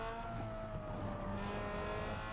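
Upgraded car engine in Need for Speed Underground 2 on PS2, a continuous loud revving drone with steady tonal harmonics throughout, alone with no talk.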